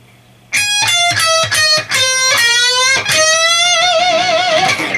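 A distorted electric guitar plays a solo lick from a song: quick picked notes climb into bent notes and end on a long held note with vibrato, loud and alone.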